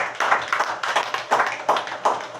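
A congregation at a church service claps together in a brisk, steady rhythm, with sharp, close, repeated hand claps and no talk.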